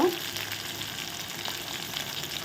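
Shallots, garlic and curry leaves sauté in a pan, giving off a faint, even crackling sizzle throughout, with no voices.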